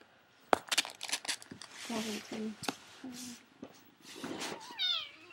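A kitten meows in a pony video game as it gets squished, giving several short mewing cries amid crinkly game effects, with a person talking loudly over much of it.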